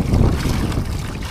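Strong monsoon wind (amihan) buffets the microphone with a steady, heavy roar, low and blustery throughout.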